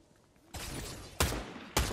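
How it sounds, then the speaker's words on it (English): Three sharp sniper rifle shots crack out in an online multiplayer shooter game, each a loud broadband burst with a booming low tail, spaced about half a second apart after a quiet opening. "I just got sniped"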